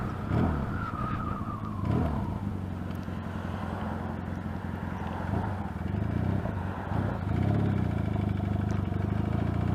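A loud Yamaha XS650 motorcycle with a reverse cone megaphone exhaust rumbles steadily while riding, its engine note rising and falling, with no talking.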